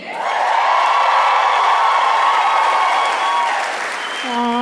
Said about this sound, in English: thank you for cheering for that part